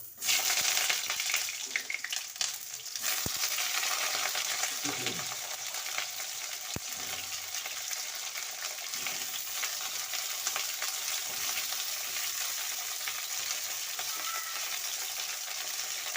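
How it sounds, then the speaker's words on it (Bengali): Pointed gourd (potol) pieces fry in hot oil in a wok, giving a steady, bright sizzle that holds throughout, with occasional stirring scrapes and a brief spoken phrase near the start. "আমি কড়াইতে তেল গরম করতে দিয়েছি আমার তেল গরম হয়ে গেছে এবারে আমি পটলগুলো দিয়ে দেব"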